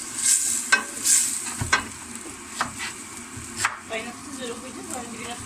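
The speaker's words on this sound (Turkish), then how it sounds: "Böyle karıştırmaya devam ediyoruz" A spoon stirs vegetable soup in a pot with freshly added hot water, giving soft scraping and clinking knocks at an irregular pace over a quiet simmer, close by.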